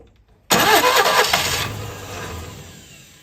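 A Citroen 2CV's pull-start starter fires the engine abruptly after a moment of quiet, then the small engine catches and runs loud and buzzing before gradually settling toward a calmer idle.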